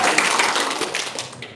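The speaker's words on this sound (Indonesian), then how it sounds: "Tepuk tangan dulu dong." Hands clapping together at an Indonesian religious gathering: a dense, steady patter of many claps from an audience, filling the short moment at fairly even loudness.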